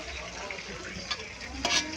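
Lumpia shanghai fry in hot oil with a continuous close sizzle and a few sharper crackling bursts near the end; no one speaks.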